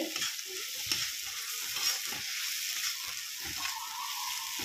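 Tomato frying in a pan, a constant bright hiss of oil with soft intermittent stirring knocks, fairly quiet and without talk.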